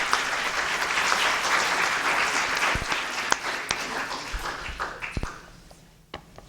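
Applause from an audience at a congressional bill briefing on the Coastal Communities Adaptation Act, steady dense clapping that thins out near the end with a few scattered louder claps before fading.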